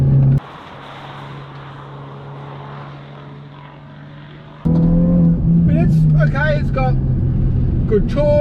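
A Hyundai i20 N hot hatch is driven hard on a track at the 2023 Hyundai N Festival, its engine droning steadily and then rising louder, with rising and falling tones as it works through gears, under someone talking.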